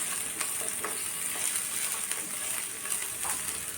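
Ginger and garlic sizzle and fry in a hot pan for a spinach and moong dal dish, a loud steady crackling hiss with a few soft stirring scrapes and no voices.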